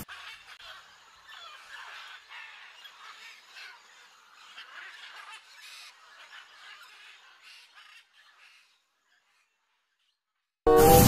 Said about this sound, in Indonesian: Lihat teman-teman, ini burung nuri teman-teman.